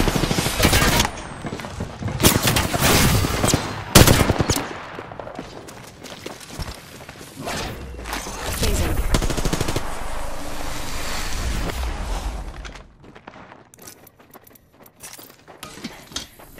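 Rapid bursts of gunfire rattle in a match of the video game Apex Legends as the player takes hits, with loud dense volleys early on, sustained firing through the middle and the shooting fading out near the end.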